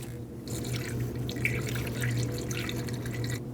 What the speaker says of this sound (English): fill your coolant reservoir bottle to the full line